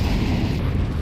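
Grenade blast in Counter-Strike, a brief low booming rumble heard close, filling the short moment with dull explosive noise.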